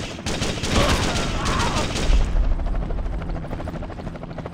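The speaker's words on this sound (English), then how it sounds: "Lead, I'm on a heavy machine gun!" Heavy machine gun fire in Ghost Recon Advanced Warfighter on PS2, a loud, rapid stream of shots over a helicopter's rotor drone, with the bursts thinning into a steady engine rumble toward the end.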